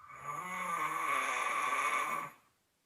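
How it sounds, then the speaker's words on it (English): One long, loud snore from a sleeping man, recorded close up, with a steady rough drone that lasts about two seconds and then stops abruptly. "My wife recorded my snoring, and it sounded pretty intense."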